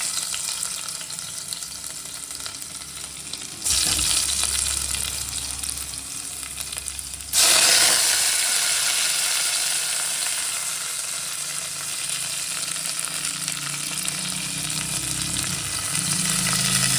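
Chopped onions fry in hot oil with garlic, cumin, black pepper and curry leaves for sambar, giving a loud, steady sizzle that surges twice early on as more goes into the pan, then settles into continuous frying with no talk.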